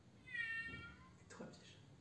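A soft cat meow, a single short cry, faint and close, followed by a brief breathy sound.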